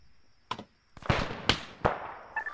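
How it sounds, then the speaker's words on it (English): Several sharp, distant gunshots in the video game Arma 3 crack out one at a time at irregular intervals, with a faint electronic tone in the background. "I hear gunshots from the north."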